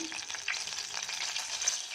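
Hot oil and ghee sizzle and crackle steadily in a pressure cooker, a close, continuous frying hiss with light stirring scrapes.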